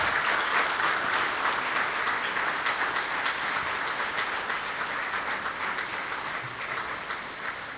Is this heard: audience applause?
yes